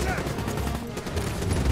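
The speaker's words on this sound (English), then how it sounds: "I'm gonna shoot back here" Rapid gunfire in the Black Ops 3 video game, a dense continuous burst of shots with low rumbling impacts, loud and close throughout, mixed with in-game voices.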